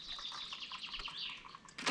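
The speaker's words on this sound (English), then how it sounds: "A lot of bird activity this morning." Birds chirp around a morning campsite, a quick string of faint, bright calls in the background with no one speaking.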